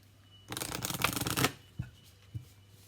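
A Lover's Oracle card deck is shuffled close by in one quick riffle of rapid fluttering snaps lasting about a second, followed by two soft taps as the cards settle, with no talking.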